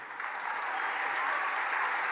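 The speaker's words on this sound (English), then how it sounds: "please do give a big round of applause" Steady, dense applause from an event audience welcoming New Edition members, a continuous wash of many hands clapping at even volume throughout with no talk over it.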